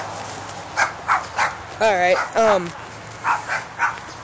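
A dog whimpers and gives short yips and barks in a few close bursts, with a person talking briefly around them.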